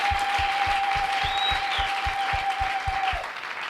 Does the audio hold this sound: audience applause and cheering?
yes